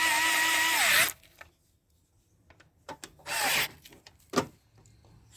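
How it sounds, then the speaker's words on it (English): A power drill on a Honda Activa scooter tightens bolts in loud whirring bursts, a long run at the start, then another burst and a short sharp one after quieter clicks and handling noises. "So I am putting back all the bolts here"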